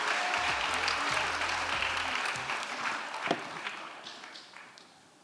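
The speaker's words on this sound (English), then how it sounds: "let's give all of our contestants a big round of applause" A live competition finals crowd applauds its contestants, a dense wash of steady clapping that gradually thins and fades toward the end, with a few louder individual claps standing out.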